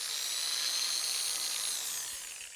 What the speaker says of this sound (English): Let's see if we can put some screws in